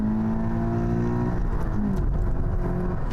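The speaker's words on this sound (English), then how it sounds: "the sound inside is just what you'd expect it to be from a pedigreed sports car" Toyota GT86 sports car engine rising steadily as it accelerates, a continuous close engine drone with climbing tones heard from inside the cabin, with no talk over it.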